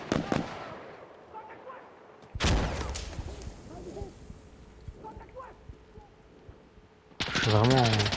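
Bursts of gunfire in the tactical shooter game Insurgency Sandstorm: a sharp, loud volley erupts partway through and another breaks out near the end, with quieter game ambience and a voice between.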